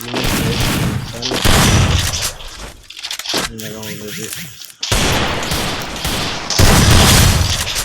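Free Fire video game gunfire sounds as loud crackling bursts and booms, with someone talking over much of it and a short quieter pause midway.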